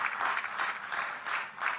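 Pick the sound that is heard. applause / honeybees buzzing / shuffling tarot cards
applause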